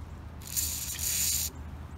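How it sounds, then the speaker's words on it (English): Aerosol spray hisses in one steady burst lasting about a second onto a corroded, jammed ratchet, bright and close, with quiet workshop background before and after. "I'm not trying to spray a lot"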